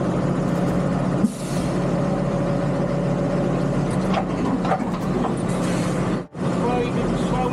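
A tug towing a generator trailer behind the scenes at a carnival, with a steady, loud engine rumble and a sharp hiss of air brakes releasing near the start.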